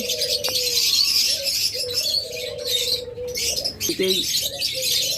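Pet birds such as parrots, mynahs, lovebirds, budgerigars and cockatiels call together in a cage setting. Scattered chirps, tweets and soft coos layer over a dense, steady background of bird chatter.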